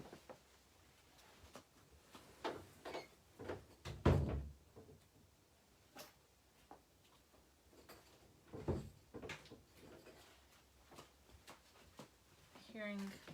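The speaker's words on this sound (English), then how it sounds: "I'm going to close my door" Someone closes an interior door partway through, a single solid thunk among light handling noises and faint conversation in a hallway beyond, with a soft rustle near the end.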